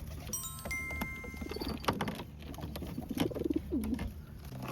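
Pigeons cooing at a loft before a free-fly release, soft repeated low coos close by over a faint ambient background with scattered clicks and rustles.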